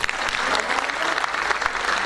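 Steady, dense applause from an audience at a Hindi-language foundation day award ceremony, cheering the people on stage; continuous clapping with no break, fairly loud and close.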